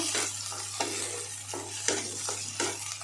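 Spice paste stir-fried in a pan, with repeated scraping strokes of a spoon over a soft sizzle, close and rhythmic at roughly one stroke every half second.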